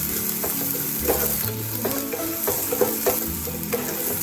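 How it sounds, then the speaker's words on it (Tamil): Crushed ginger and three cloves of garlic sauté in hot oil for a gobi pepper fry, a steady close sizzle broken by regular scraping stirs of a spatula against the pan, with no voices. "இது நல்லா வதங்கட்டும்"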